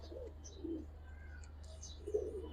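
Fancy show pigeons coo softly in a few brief, low bursts over a steady background hum, faint and close, with a couple of thin chirps in between.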